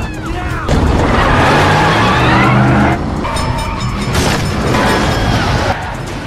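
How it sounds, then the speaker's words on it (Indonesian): A car chase and crash from an action film, where a car rolls over: loud, dense roaring engine noise and crunching impacts fill the whole stretch, with heavy booming bursts and a brief drop partway through. "Kemudian mobil Dalton terguling."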